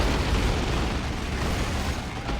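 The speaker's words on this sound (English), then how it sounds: "Shotgun blasting Catachans." Shotgun blasts from Catachan units in the Warhammer 40k Dawn of War 2 video game, heard during a 3v3 match as a dense, continuous run of booming, overlapping bursts at steady loudness.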